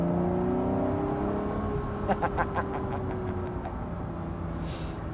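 Honda NSX-R engine revving up on an open road at the national speed limit, a steady droning engine note rising in pitch, heard from inside with road and wind noise and a few brief knocks.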